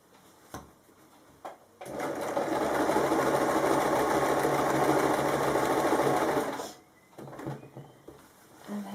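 A sewing machine stitches a kimono wrap top in one steady run of about five seconds, close and even, with short quiet handling gaps before and after as the fabric is eased around a sleeve corner.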